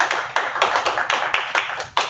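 Scattered clapping from a small audience after planetary defense conference talks, a handful of close, individual claps in loose rhythm.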